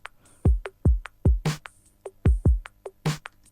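Lo-fi groove layering a 90s keyboard, a booming kick and a short, snappy distorted snare sample, with keys plucking between kicks and bursts of gritty snare landing on the backbeat.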